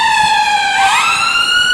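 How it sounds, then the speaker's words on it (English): An ambulance siren passes close by, its loud rising and falling wail sliding down in pitch as the vehicle goes past, with no other sounds. "As an ambulance goes by"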